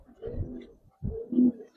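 Pigeons coo from a loft in Old Dhaka, two low rolling coos about a second apart, close and fairly loud with no talk over them.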